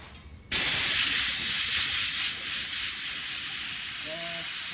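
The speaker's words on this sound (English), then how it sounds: "About 130 pounds of air on my compressor." A home air compressor at about 130 psi blasts air through a K&N air filter, a sudden loud steady hiss from about two feet away starting after a brief quiet moment and holding constant to the end.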